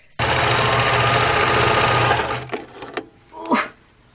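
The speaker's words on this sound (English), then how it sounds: "I tried serging all of those layers together and it didn't super work" Serger stitching through eight layers of fabric, a loud fast motor chatter running for about two seconds, then stopping, followed by a few clunks and a short squeak, with no talking.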